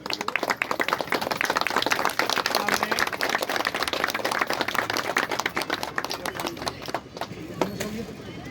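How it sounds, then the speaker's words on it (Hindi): A crowd at a former soldiers' association event applauds loudly as guests are honoured with a bouquet, a dense rapid clatter of many hands close by that thins out near the end. "जोरदार तालियां।"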